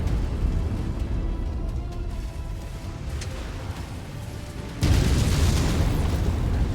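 Artillery explosions rumble through a Mechwarrior 5 battle, with a low booming wash that jumps sharply louder partway through and stays heavy to the end.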